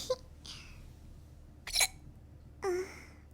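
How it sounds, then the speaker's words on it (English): A person hiccups in short, separate bursts, several of them spaced apart across a few seconds, close and fairly quiet against a low background hum. "Do you like my hiccups"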